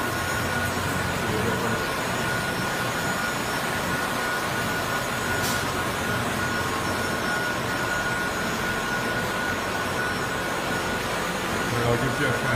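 A concrete floor grinder fitted with 1500 grit diamond pads burnishes a concrete floor, giving a steady, loud, broadband drone with a constant hum throughout.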